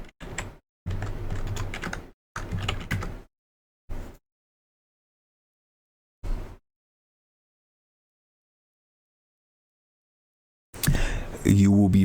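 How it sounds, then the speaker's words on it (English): Bursts of clicking on a computer keyboard as a router's IP address is entered, short runs of keystrokes separated by silences, close and clear. "So from here, we want to type in the router's IP."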